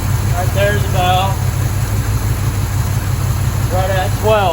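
1983 Chevrolet square body truck engine idling with a steady, even low rumble close by, while a person talks over it.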